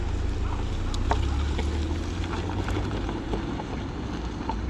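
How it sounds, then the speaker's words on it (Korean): A first-generation Hyundai Veloster Turbo drives off, giving a steady, low engine drone with a constant rumble and faint wind noise, heard from inside and without speech. "그러면 시동을 걸고 출발해 보도록 하겠습니다."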